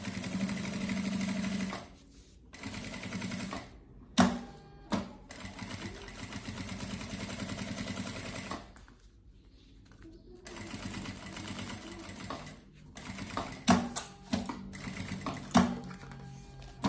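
A sewing machine stitches fabric for a carry-on travel bag in bursts of fast rhythmic whirring, stopping and restarting several times with short gaps between runs.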